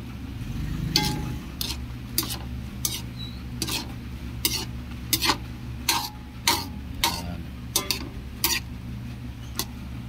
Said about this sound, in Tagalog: Haluin natin ng haluin para mabawasan yung sabaw